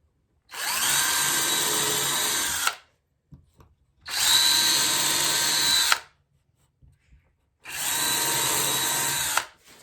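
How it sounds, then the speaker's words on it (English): A cordless drill bores holes through stacked wooden panels for a sauna backrest, in three loud, steady whirring runs of about two seconds each, with short quiet gaps between. "I'm going to re-drill the holes so it goes through to"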